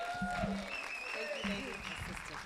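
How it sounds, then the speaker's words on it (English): Audience applause at a community performers showcase, a steady wash of clapping that carries under someone talking over it. "let's just give another round of applause"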